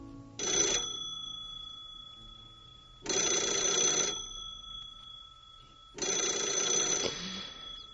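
An old-style telephone bell rings in three evenly spaced bursts about three seconds apart, each a metallic jangle of roughly a second, moderately faint with quiet gaps between and no talk.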